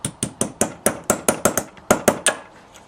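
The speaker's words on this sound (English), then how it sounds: "Then you take a light hammer" A light hammer taps a wire driving out a carburetor needle jet on a JS flatside carb, about a dozen sharp, evenly spaced metallic strikes, close and clear with no talk.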